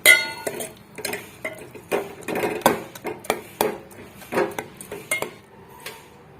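Spoon or ladle knocking and scraping against a metal pot while tomato rasam is mixed, a steady series of clinking strikes roughly every half second, close and fairly loud with no talking.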